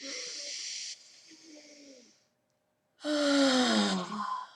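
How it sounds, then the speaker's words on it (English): A person takes a long, audible breath in, pauses briefly in near silence, then lets out a loud, airy exhale with a slight voiced tone during a calm guided breathing exercise. "Deep breath in."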